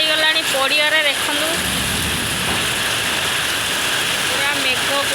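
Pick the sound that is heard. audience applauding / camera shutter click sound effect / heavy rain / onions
heavy rain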